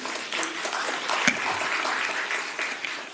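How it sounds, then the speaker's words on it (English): Audience applause at a county commission meeting, a steady wash of clapping from the room that holds at an even level throughout. "Oh, we could applaud that."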